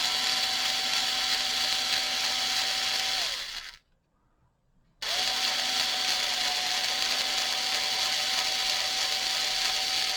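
A battery-powered drill bores through plastic while fitting a light bar, giving a steady whirring drone that stops briefly for about a second, then resumes at the same pitch, close and fairly loud with no talk.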